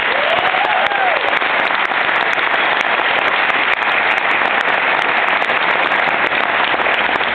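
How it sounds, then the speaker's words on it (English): Audience at a high school ceremony applauding, a loud, dense, continuous wash of clapping with no pauses, filling the whole stretch. "Let's all please give them a round of applause."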